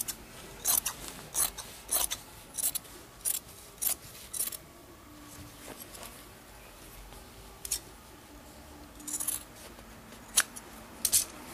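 Scissors snip through the denim hem of a pair of jeans in short, crisp bursts repeated irregularly. The cuts are close and faint, with quiet pauses in between.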